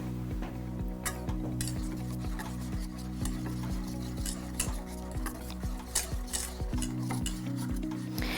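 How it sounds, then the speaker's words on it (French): A whisk works through white chocolate ganache for raspberry macarons, emulsifying warm cream and chocolate in a bowl, giving steady close scraping and stirring strokes with occasional sharper clinks against the bowl. "On fait infuser quelques secondes le chocolat blanc et on émulsionne au fouet."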